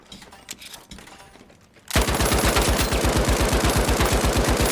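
A Lewis gun fires in a video game with a loud, rapid, steady automatic stream of shots that starts abruptly and continues without a break.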